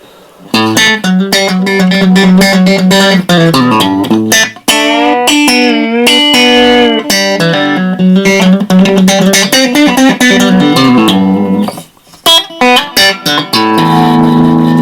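A budget Telecaster electric guitar, newly set up for its bright twangy tone, rings out in a steady stream of picked notes and strummed chords, up close and loud, with a short break near the end.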